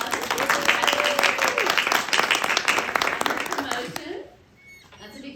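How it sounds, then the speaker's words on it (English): A crowd claps at a military retirement ceremony, a dense broadband wash of applause with voices mixed in, running for about four seconds before fading to quiet room tone. "So let's give her a round of applause."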